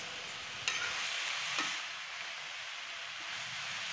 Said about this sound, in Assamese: এতিয়া এইখিনি ভালদৰে লৰাই লৈছোঁ।